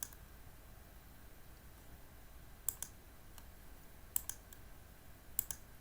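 A computer mouse clicks on a database website, several quiet sharp clicks spaced a second or so apart, some in quick pairs, over a faint background hiss.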